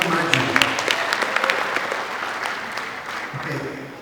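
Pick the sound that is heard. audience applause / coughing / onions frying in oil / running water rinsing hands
audience applause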